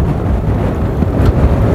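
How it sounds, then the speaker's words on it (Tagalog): Strong wind buffets an outdoor microphone in a loud, continuous rumbling roar at an open-water boat race between Pangasinan and Nueva Ecija, with no voices heard. "Grabe ang lakas ng hangin dito."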